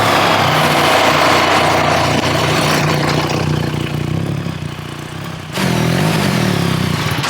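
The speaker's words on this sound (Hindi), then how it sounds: "अभी एग्जॉस्ट नोट सुनते हैं बाइक कैसा साउंड प्रोड्यूस करती है" A 2025 BMW R1300 GS motorcycle runs steadily at idle with a broad, continuous exhaust drone, dipping slightly midway before the engine note swells again; no talk over it.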